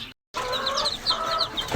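Several small chicken chicks cheep in high, repeated chirps over a low background murmur, after a brief moment of silence near the start.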